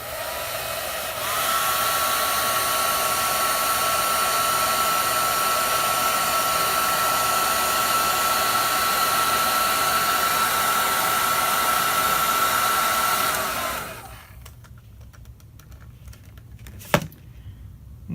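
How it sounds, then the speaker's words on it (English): A heat gun roars in a steady, loud, close blast for about twelve seconds while it shrinks tubing onto a fishing snap, then cuts off, leaving quiet room tone and a single sharp click. "I'll take, in this particular case, a heat gun, and I'll just turn this on and blow that until the heat causes that tubing to shrink right in place"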